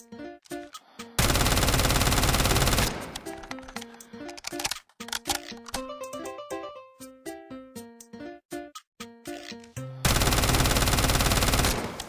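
Bursts of automatic gunfire from a low-recoil gun in the mobile shooter game Delta Force Mobile, two long loud sustained volleys framing a stretch of scattered shorter shots and clicks.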